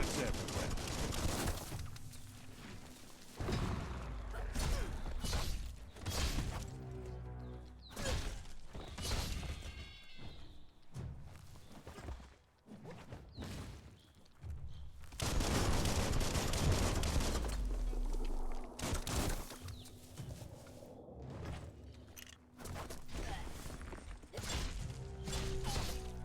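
Gunfire crackles in the video game Biomutant: rapid bursts and sharp shots mixed with game effects and music, loud and dense in stretches, with a person talking over parts of it.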